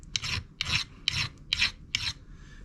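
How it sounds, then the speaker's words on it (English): A hand file rasps across the end of an 18650 battery cell covered in spot-weld marks, five steady back-and-forth strokes, close and loud with short pauses between them. "And I just take a file,"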